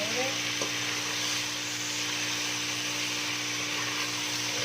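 Okra masala with onion and tomato frying in a pan, giving a steady, fairly loud sizzle with a constant hum underneath and no talk.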